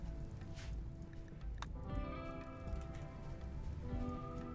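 Rain falling in the video game Rimworld, a steady soft patter of drops under sustained music-like tones, faint and continuous with no speech.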